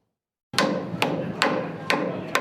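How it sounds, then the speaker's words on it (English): A hammer strikes nails or lumber at a house construction site for a new neighborhood in Southeast Raleigh, five sharp ringing blows at roughly half-second intervals after a brief silence, close and alone. "With each swing of the hammer"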